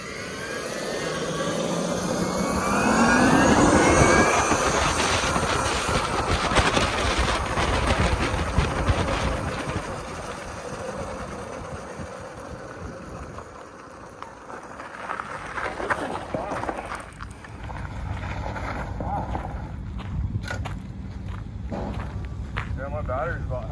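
An electric trike accelerates hard, its motor whine climbing in pitch early on over steady rushing wind and road noise. The ride continues for over twenty seconds while people talk throughout.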